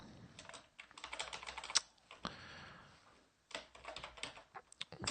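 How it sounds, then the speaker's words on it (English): Fast, irregular clatter of keys on a computer keyboard as a password is typed, in close bursts with a short pause in the middle and one sharper key strike. "we will type in the real password that will follow the email address"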